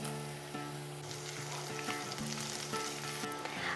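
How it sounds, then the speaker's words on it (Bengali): Julienned ginger, kasuri methi and dried chillies frying in hot oil, a dense close sizzle with occasional soft stirring knocks, no voices. "হালকা করে ভেজে নিয়েছি"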